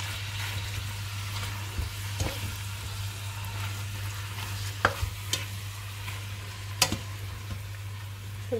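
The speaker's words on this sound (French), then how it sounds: "Alors on va mettre la viande. On va la faire dorer comme il faut." Pieces of veal brown in melted butter in a pan for blanquette de veau, sizzling steadily under a constant low hum, with occasional sharp clicks and scrapes from stirring.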